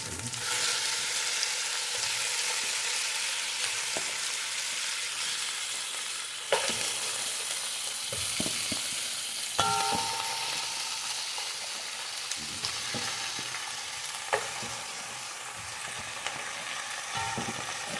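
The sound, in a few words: beef spare ribs frying and being stirred in a pan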